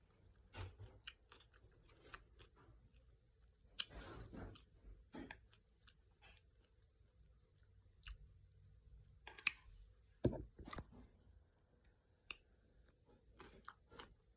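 Crunchy cucumber salad being chewed close to the mic, with soft, irregular bites and wet crunches scattered between quiet pauses, and faint murmuring sounds from the eater.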